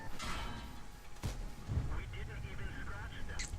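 Heavy tank cannon fire in the online game World of Tanks rings out at an M103 heavy tank, a few booming shots and thuds over battle noise, with someone talking over the action.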